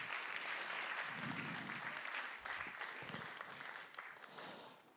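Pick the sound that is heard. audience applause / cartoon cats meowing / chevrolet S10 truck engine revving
audience applause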